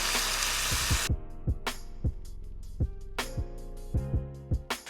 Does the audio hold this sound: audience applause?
no